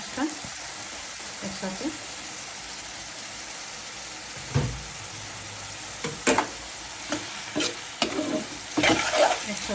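Shrimp frying in a pan with steady sizzle, stirred in several scraping bursts near the end, with a voice speaking briefly over it during home cooking of a shrimp bhuna.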